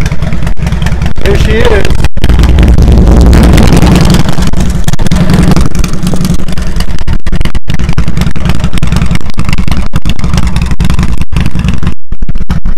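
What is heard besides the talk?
Harley-Davidson motorcycle engine starting and running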